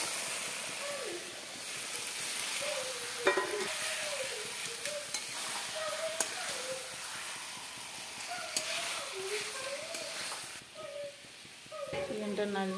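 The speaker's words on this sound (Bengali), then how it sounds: "চিকেনটা নাড়িয়ে দিচ্ছি।" Chicken stirred in a pan of cooked-down spice paste with separated oil, a continuous sizzle under frequent scraping strokes, close, while someone talks over it throughout.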